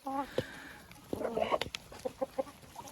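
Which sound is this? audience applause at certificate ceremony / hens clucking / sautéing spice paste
hens clucking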